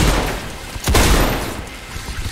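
Gunfire in the video game Decaying Winter: a single sharp broadband shot bursts out near the middle over a steady noisy game background, with no talk.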